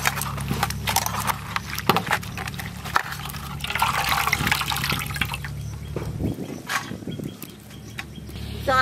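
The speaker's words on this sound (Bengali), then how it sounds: "শাকটা এবার ভালো করে ধুয়ে নেব" Pumpkin stem greens are washed by hand in water in a home kitchen, with close splashing, sloshing and dripping that come in irregular bursts and fade to quieter trickles.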